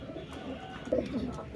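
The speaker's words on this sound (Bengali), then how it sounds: "টাইগার ডাবলা কবুতর দুটো দেখেন" Teddy pigeons coo in a short, low, throaty burst near the end, with faint voices murmuring in the background.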